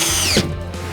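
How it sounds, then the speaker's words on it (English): A power driver fastening gypsum board with coarse thread screws, a short high motor whine that drops off suddenly, followed by a low steady hum, close and loud. "now we, of course, use the coarse thread screws to fasten the board"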